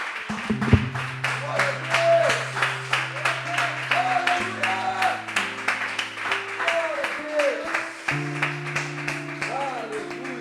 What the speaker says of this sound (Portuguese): Você pode aplaudir novamente ao Senhor com o seu melhor.